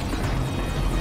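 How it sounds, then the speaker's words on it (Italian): A helicopter's rotor and engine in the video game TimeShift make a continuous loud whirring drone throughout the short stretch, with no voices over it. "Elicottero."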